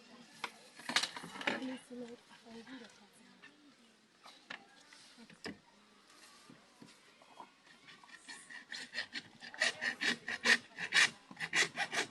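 PVC pipes are sawn by hand into lengths for a vermicompost system, making raspy stroke-by-stroke sawing. The sawing is irregular at first and becomes a faster, louder run of strokes near the end, with voices talking in the background.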